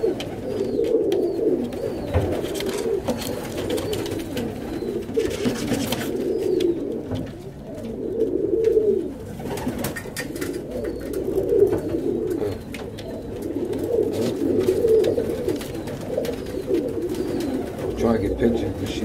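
Young tippler pigeons coo close by in repeated soft, throaty bursts every few seconds. A person's voice talks intermittently alongside them.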